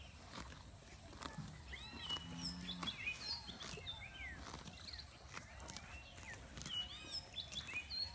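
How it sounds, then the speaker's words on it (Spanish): Several short, bright goldfinch chirps and warbling notes scattered over steady outdoor background noise, with faint rustling and movement underneath. "Ese es jilguero."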